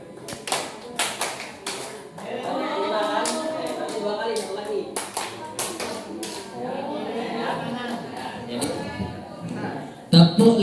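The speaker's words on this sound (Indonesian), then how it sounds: "Kalau 2 kali tepuk 5," During a clapping game at a junior high school teacher-training session, an audience claps in quick bursts of sharp, fairly close hand claps, separated by stretches where a voice speaks to the room.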